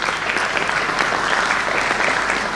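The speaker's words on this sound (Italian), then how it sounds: "un applauso al sindaco" Steady, full audience applause for a town mayor at a regional assembly meeting, with sustained clapping from a large crowd in a hall throughout.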